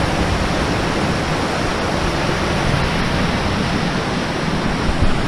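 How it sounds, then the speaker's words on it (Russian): Water rushing over rapids on a river near Sydney after a flood, a loud, steady, broadband roar close by with no letup and no voices. "Пороги."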